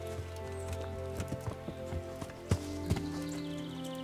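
Horse hooves in the video game Kingdom Come: Deliverance clop at an uneven pace over a steady low hum, with a few sharper, louder strikes near the end.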